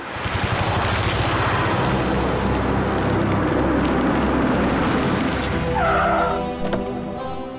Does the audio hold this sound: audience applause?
no